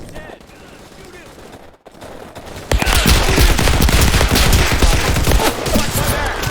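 Rifle fire in a video game: after a quieter lead-in with a brief drop to near silence, a loud, dense burst of rapid shots starts suddenly and keeps going, close and continuous to the end.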